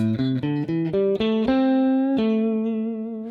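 An electric guitar plays a short run of distinct notes, climbing upward, then bends one note and lets it ring out with sustain and slight distortion.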